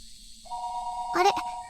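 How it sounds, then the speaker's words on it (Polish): A telephone ring in the Higurashi video game, one short electronic ringing tone with a brief chime near the end, clear and alone. "Dzwoni telefon."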